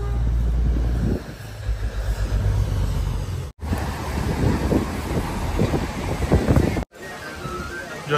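A train rolls past at Matheran hill station, a loud, sustained rumble with rattling wheels close by and wind buffeting the microphone, cut by a couple of brief dropouts.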